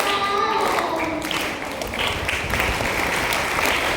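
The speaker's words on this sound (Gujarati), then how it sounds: "ખરેખર આપણી તાળીઓ ઓછી ન થવી જોઈએ" An audience at a children's summer camp talent show claps after a child's performance, giving a sustained, even burst of applause.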